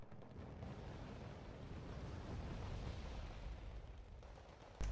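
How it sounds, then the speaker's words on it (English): Bombing in the war strategy game Wargame: Red Dragon, a Hornet jet striking a Tunguska anti-air vehicle: a continuous loud rumbling roar of blasts that swells and holds for several seconds, then cuts off abruptly. "My Hornet's bombing the Tunguska."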